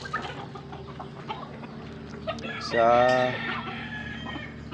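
Rhode Island rooster chickens on a small farm cluck in the background, with one louder squawking call near the middle, while a person talks over them.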